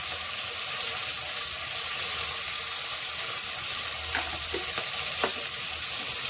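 Garam masala and turmeric fry in a pan for veg pulao with a constant, dense sizzling hiss, broken near the end by a few short clinks of a spoon, close and without voices.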